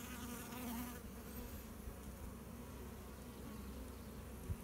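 Honey bees swarm around their new hive, a dense continuous buzzing hum that stays steady and fairly close throughout, with no voices.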